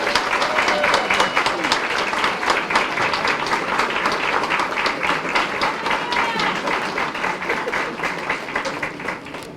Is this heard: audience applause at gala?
yes